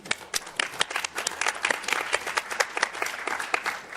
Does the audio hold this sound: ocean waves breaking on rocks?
no